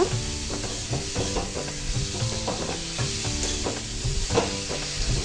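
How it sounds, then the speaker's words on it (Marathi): Steady sizzling of pointed gourd pieces frying in a pan, with a spatula scraping and stirring at a regular rhythm throughout; no talking. "आता हे परतवून घ्यायचं परतवून घ्यायचं"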